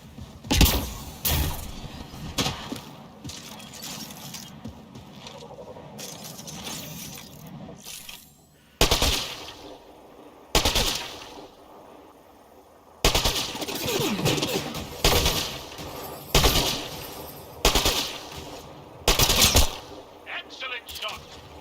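Video game gunfire in Mass Effect Andromeda, repeated loud bursts and single shots in irregular clusters, with quieter gaps between volleys and game voices talking over parts of the fight.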